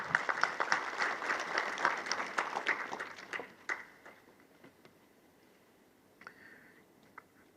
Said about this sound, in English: I'd like you to join me to make an applause for the EU.